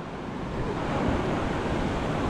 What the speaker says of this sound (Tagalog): Tumataas ang alon, hindi yung tubig.